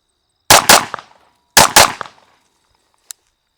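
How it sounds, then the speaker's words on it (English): Two loud, sharp shots from a custom 1911 XC pistol fired at a cardboard target at 7 yards, about a second apart, each with a quick echoing tail, followed by a faint metallic click. "I'm just gonna pop 2 rounds off so you can see how close they land together"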